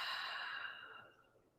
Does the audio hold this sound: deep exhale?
yes